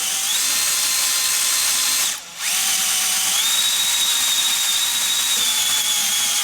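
A power drill with a 3/16 bit boring out a broken bolt held in a vise, whining steadily and loudly with a brief dip in speed partway through.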